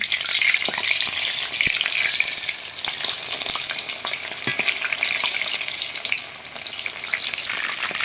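Chicken pieces fry in hot oil, giving a continuous bright sizzle with occasional soft pops and faint stirring clicks, close and steady with no talking.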